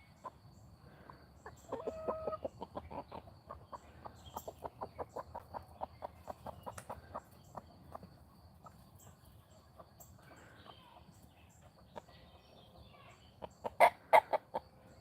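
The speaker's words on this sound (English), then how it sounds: "There's a couple chickens behind the coop tonight," Chickens clucking behind a coop at night, a run of rhythmic clucks building then tapering across the middle, followed by a couple of louder, sharper squawks near the end against a quiet farmyard background.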